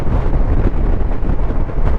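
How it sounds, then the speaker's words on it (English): Heavy wind buffets the microphone on a high Pennines road in a constant loud, low rumble, with no other sounds standing out. "Bloody windy up here"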